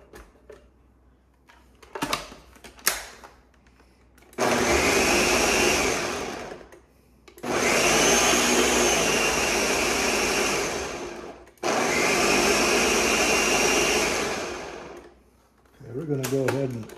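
A blender whirs loudly through salsa in three long sustained runs separated by short pauses, with clinks and handling noises before the first run and a voice speaking at the end.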